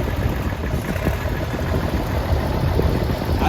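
A 1964 Farmall 560 tractor idles at a tractor show's parade of power, a steady, close, low diesel rumble with throbbing vibration and no one talking.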